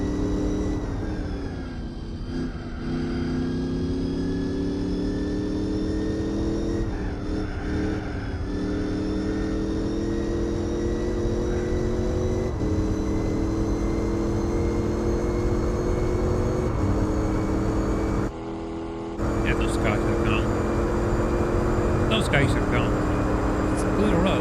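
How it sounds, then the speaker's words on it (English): A C4 Corvette's V8 in Gran Turismo 4 drones steadily at sustained speed, with its harmonic pitch dropping and jumping at each gear change. Someone talks over the engine noise. "let the V8 noises carry you to sleep"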